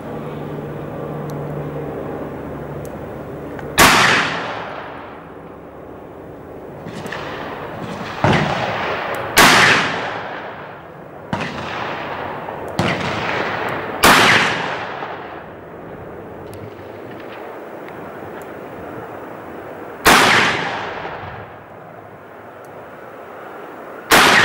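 Smith & Wesson 686 .357 Magnum revolver fired outdoors, about nine loud, sharp shots at irregular intervals, each with a booming echo that fades off.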